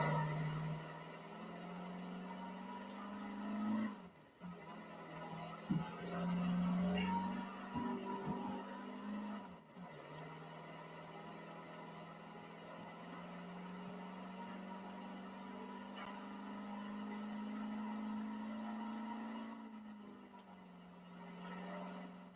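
A bank truck drives in the Roblox game ERLC, with a faint, steady synthetic engine hum that dips briefly a few times as the throttle changes, running alone without talk.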